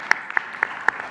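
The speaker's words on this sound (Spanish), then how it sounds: "Un aplauso." Brief, sparse applause at a press conference, a handful of separate sharp claps spaced across about a second, fairly close and with no voices.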